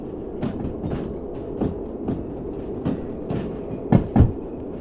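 A long train rolls along rails in the Derail Valley simulator, giving a steady low rumble with rhythmic clickety-clack wheel beats at rail joints and two louder clunks near the end.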